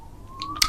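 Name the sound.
emergency vehicle siren passing close by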